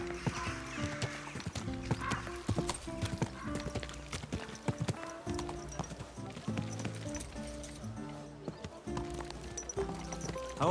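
A horse in the medieval video game Kingdom Come Deliverance 2: rhythmic clip-clop of hooves with a whinny, close and steady over a game soundscape.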